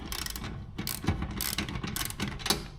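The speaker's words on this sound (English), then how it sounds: "I figured out that I gotta loosen up this bolt." Ratchet wrench loosening a bolt on a garage door bracket, rapid clicking pawl strokes in short repeated bursts, close and without talk.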